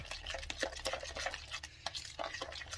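A spoon stirs an omelette mixture of eggs, potatoes, onions and pepper in a bowl or pan, making quick, close, wet scraping and sloshing strokes in a short, busy rhythm.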